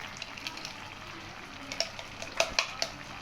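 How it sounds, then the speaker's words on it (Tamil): A spoon stirs chicken biryani rice with ghee in a pot, making soft scraping and light clinks against the pot over a faint, steady sizzle, quiet and close. "ஒரு கரண்டி நெய் சேர்த்துக்குவோம். நல்லா கிண்டி விடுங்க அடி வரைக்கும்."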